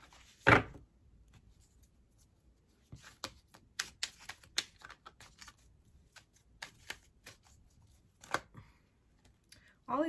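Tarot cards being shuffled and handled close by, a loud riffle near the start followed by scattered quick snaps and flicks of cards through the rest, ending in a brief burst.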